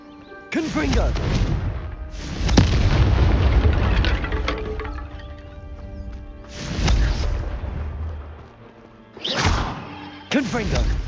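In Hogwarts Legacy, repeated Confringo fire-blast spells burst with heavy, close booms, about five blasts in irregular succession, each followed by a rumbling decay, and a voice shouts among the explosions.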